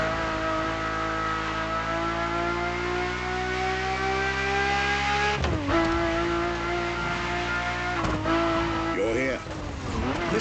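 A Ferrari F50 supercar's engine in The Crew Motorfest holds a steady, harmonically rich drone, then shifts abruptly twice as the revs change, with a voice talking over it.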